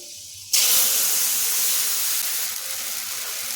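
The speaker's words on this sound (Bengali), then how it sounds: "ফোড়নটা একটু ভেজে নিয়ে দিয়ে দিচ্ছি তেঁতুল গোলা জল।" Tamarind water hits hot oil tempered with dried red chilli and five-spice, bursting into a loud, sudden hiss that stays steady and close as it sizzles on without talk.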